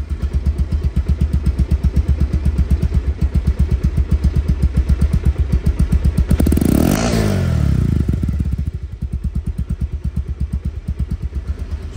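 A used Bajaj Pulsar single-disc motorcycle idles nearby with a steady, rapid thumping beat, and one short rev rises and falls midway before settling back to the idle. Nobody speaks.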